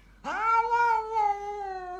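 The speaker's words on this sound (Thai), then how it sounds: "โหดจังวะแมว" A cat lets out one loud, drawn-out fierce meow lasting nearly two seconds, close and alone with no talk.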